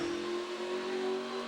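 A NASCAR race car engine restarting at the 2011 Coca-Cola 600 at Charlotte revs high and steady for a moment, a strained, buzzing mechanical tone with a sharp whine on top.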